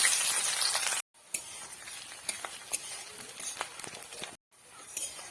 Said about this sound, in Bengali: তার মধ্যে দিয়ে দিলাম সর্ষের তেল তেল গরম হয়ে গেছে এখন দিয়ে দেব পেঁয়াজ